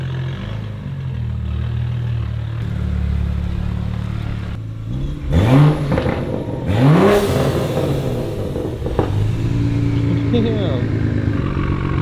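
A rebuilt BMW 335i with an N55 turbo engine running, heard as a steady engine drone that rises into sharp revs and turbo whoosh and flutter, close by, with someone speaking briefly.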